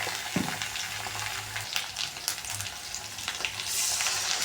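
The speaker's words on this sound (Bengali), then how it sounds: "পরিমাণ মতন সরষের তেল পেঁয়াজ কুচানো এখন ভালো মতন পেঁয়াজটা লাল লাল হতে হবে" Chopped onions fry in mustard oil with a continuous dense sizzle and crackle and a few faint stirring scrapes, close and steady, with no talking.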